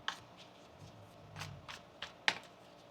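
Tarot cards are shuffled by hand in a few soft, quiet riffling and tapping bursts spaced over a couple of seconds, with no talking.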